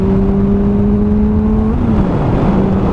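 A Honda CBR 600rr motorcycle cruises along back roads, its engine holding a steady whining drone that dips in pitch near the end as it shifts or eases off, under constant loud wind rush.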